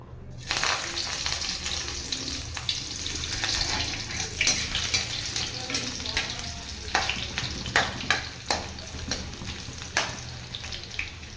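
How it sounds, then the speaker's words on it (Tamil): Garlic frying in hot oil for a village-style citron pickle, a continuous close sizzle with scattered clinks and scrapes of a utensil stirring in the pan, steady throughout with no speech. "எண்ணெய் காஞ்சிருச்சு நம்ம பூண்டு போட்டுக்கலாம்"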